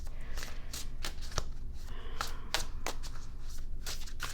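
Tarot cards shuffled by hand for a reading, a steady run of soft papery riffles and slaps with sharper snaps every half second or so, close and alone.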